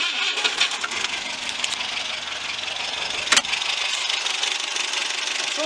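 A 1987 Moskvich-2140 SL export car engine cranking and sputtering, a continuous mid-pitched engine noise with a sharp cough near the middle, heard up close without talk.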